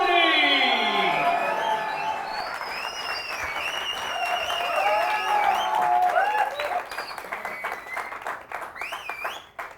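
Audience applause and cheering greet Sapna Choudhary at a live show, a dense sustained clapping crowd with whistles rising over it, fading toward the end.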